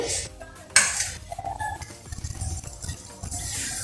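A metal kadai clanks as it is set down on a stove while cooking for brinjal and onion bajji, one loud clang followed by lighter metallic clinks and rattles close by.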